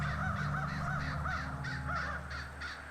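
Crows cawing on the Grey Mountain in the video game Night of the Rabbit: a rapid series of harsh, rhythmic caws from several birds over a low steady background hum, nearby and clear.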